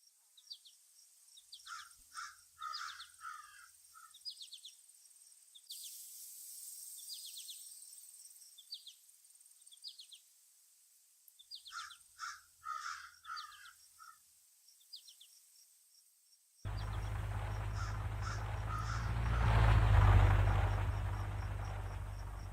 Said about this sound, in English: I'm going to play a one-shot sound effect of the crow call